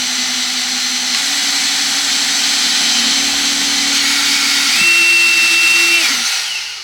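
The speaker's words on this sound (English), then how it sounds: "I'm holding it nice and square, making sure that the drill's not touching much of the sides" A power drill bores through timber, whirring steadily and loudly up close, its pitch stepping higher partway through as the bit bores in, then winding down at the end.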